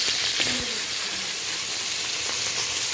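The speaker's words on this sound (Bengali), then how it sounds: "তো আমি অল্প অল্প করে মাছগুলো ভেজে নেব।" Small pond-caught bata fish fry a few at a time in hot oil in a wok, giving a continuous dense hiss and sizzle that holds steady throughout, with no talking.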